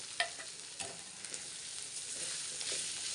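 Chopped spring onion sautéing in a pan, a faint soft sizzle with a few clicks of stirring near the start, quiet and close, without talk.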